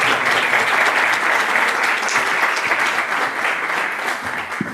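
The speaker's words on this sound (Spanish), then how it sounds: "Bueno, un aplauso para Adrián" Steady, dense applause from an audience at a school book presentation, filling the room for several seconds without letting up.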